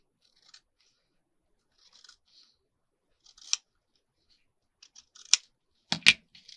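Scissors trim a paper envelope booklet in a series of short, crisp snips, sparse at first and then quicker and louder toward the end, with no talking.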